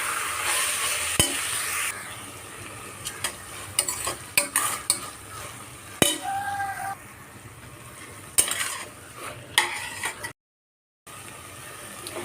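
Onions being sautéed as the base for a chicken curry sizzle in a pan while a spoon scrapes and clanks in repeated strokes, with a short silent gap near the end.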